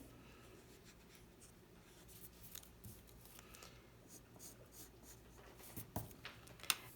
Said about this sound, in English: So I'm just going to draw a circle.